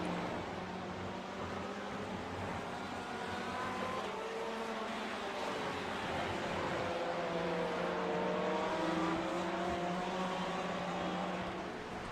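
A race car engine in a racing video game at Spa drones steadily through the whole stretch, its pitch sliding up and down with gear changes, mixed with other engines nearby at a constant loud level with no voices.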